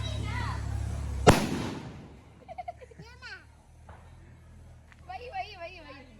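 A single sharp Diwali firecracker blast in a village celebration, loud and close, cutting off a low rumble, followed by children talking and shouting in the quieter aftermath.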